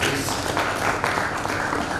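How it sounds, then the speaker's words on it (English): Audience at a technical seminar panel giving a round of applause, a steady dense wash of many hands clapping together at moderate loudness for a couple of seconds. "Please give a round of applause."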